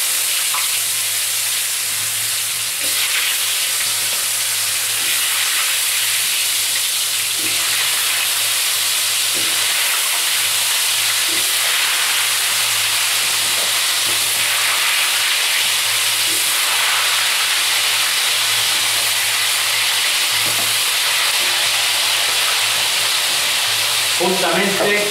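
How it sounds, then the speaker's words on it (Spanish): Potatoes frying in a pan, sizzling and hissing loudly and continuously up close, with faint scraping stirs now and then. "Ahora vamos a sofreír las patatas un poco."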